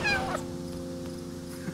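A cat gives a clear meow near the start, close and fairly loud, then quiets over a steady background hum for the rest of the moment.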